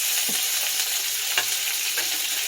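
Pieces of lemon garlic chicken sizzle loudly in a hot pan as they are lifted out, a bright continuous hiss punctuated by a few soft scrapes and knocks.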